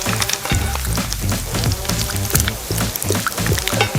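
Eggs frying in a pan give a steady, dense crackling sizzle, close and loud throughout, broken by sharper pops and spatters.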